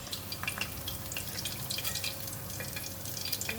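Deep-fried fish lifted out of hot oil, a soft continuous sizzle and crackle with light dripping, faint and close, no talking.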